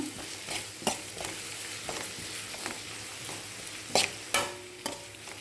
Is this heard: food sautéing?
yes